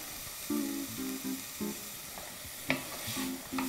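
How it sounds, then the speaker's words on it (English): Vegetables seasoned with salt and pepper sauté in a pan, a soft steady sizzle carrying repeated short tonal scrapes and clinks as they are stirred, close and moderately loud. "So we just want to cook these vegetables just to soften them up just a little bit."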